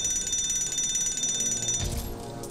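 A door auto-locking mechanism in the LEGO Marvel Avengers video game gives a steady mechanical ratcheting, clicking whir under a high electronic tone, ending with a low thud, with no talk.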